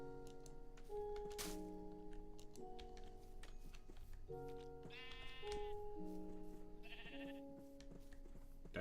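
Sheep in a Minecraft-style video game bleat in a few short separate cries over a soft plucked background melody, fairly faint, with no talking.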